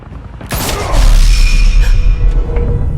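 Gunfire in an animated Batman episode comes as a loud blast and shattering crash that swells into a sustained rumbling roar with ringing metallic tones, dense and close.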